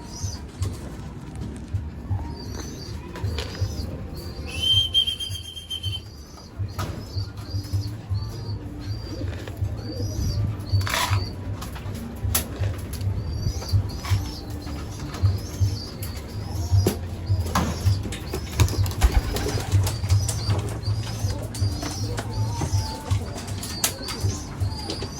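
Pigeons at a loft, one perched on a roof, cooing softly and repeatedly while bursts of wing flapping break in, with other birds chirping faintly in the background over a low, steady rumble.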